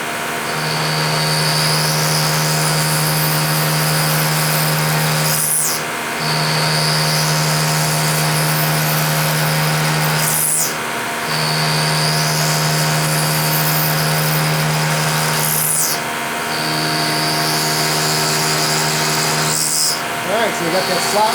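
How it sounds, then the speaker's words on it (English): A milling machine drives an end mill through a slot in a knurling tool clamp, giving a loud, steady machine drone with a sustained tonal whine that dips briefly at regular intervals roughly every five seconds. "There's too much load on the end mill."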